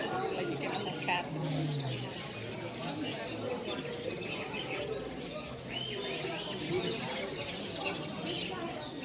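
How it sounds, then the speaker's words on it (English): Canaries at an indoor bird show and sale chirping and tweeting in a busy chorus of many small birds, while people converse nearby throughout. "No, these are canaries."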